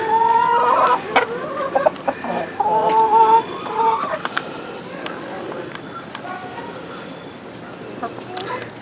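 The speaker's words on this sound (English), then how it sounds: "that is one of my Buff Orpingtons. And there is a Barred Rock." Buff Orpington and Barred Rock hens clucking nearby in a backyard, a series of short, tonal clucks and calls bunched early and thinning out, with a person talking between them.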